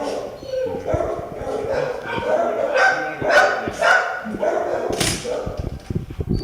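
Many dogs bark, yip and whimper together in an animal shelter kennel, a dense, echoing chorus of overlapping barks with loud bursts throughout.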